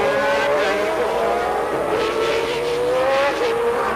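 1991 Brazilian Grand Prix Formula 1 cars at Interlagos sweep past as the leaders go by, a loud, continuous engine whine with shifting pitch from several passing cars, with race commentary faintly underneath.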